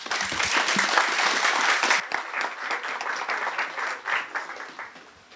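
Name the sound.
audience applause at a conference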